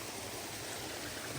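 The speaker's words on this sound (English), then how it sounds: "So I got a little cascade right here." A small cascade on a wilderness hiking trail rushes in a steady, dense broadband hiss, close and continuous with no voices.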